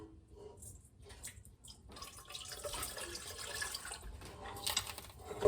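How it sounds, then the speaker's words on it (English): Hot water poured into a bowl for bread dough, a soft, steady splashing and trickle that builds after a quiet start and runs on for several seconds, close by with no talking. "Start with a cup of hot water poured into the bowl."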